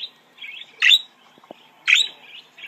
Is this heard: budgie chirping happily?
yes